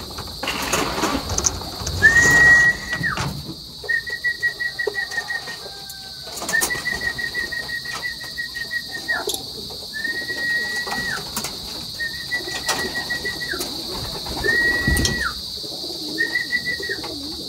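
Racing pigeons coo in a series of repeated calls spaced a couple of seconds apart, over a steady high-pitched background hum.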